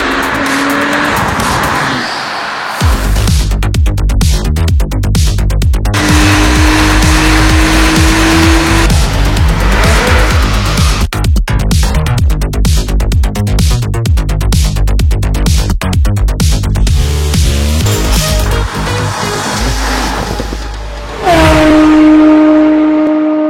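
A Porsche 991 911 Turbo S with a stage 2 tune and twin-turbo engine accelerates at full throttle, a loud sustained roar climbing through the revs, broken by sharp gear changes.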